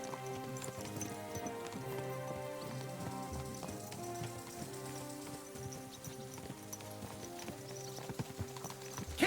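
Horse hooves clip-clopping in the video game Kingdom Come Deliverance II, a steady rhythmic trot of hoofbeats under sustained background music, with no voices heard.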